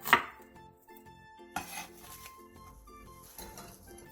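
A knife slicing an onion thinly on a cutting board: a quick steady series of soft, close chopping taps in a regular rhythm, with a louder knock at the start, no talk.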